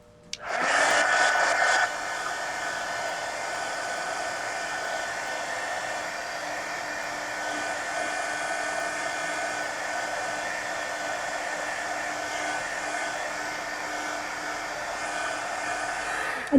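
A heat tool or hair dryer blowing over wet glue on a mixed-media napkin journal page, a steady loud whooshing hiss that starts abruptly, drops slightly after about two seconds, then holds evenly.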